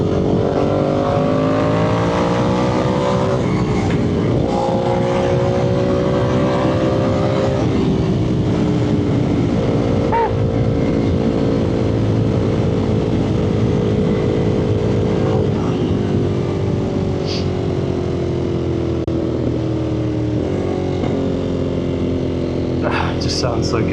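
Ducati Monster 1200 S motorcycle engine revving hard through rising and falling pitch sweeps, loud and close, with a voice talking over much of it.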